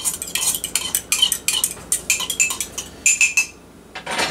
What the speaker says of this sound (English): Mix that up a tad bit. Let that honey kind of dissolve in the liquid.